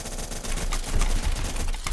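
Rapid gunfire in a squad battle video game, dense overlapping bursts of shots crackling continuously, close and loud throughout a short stretch.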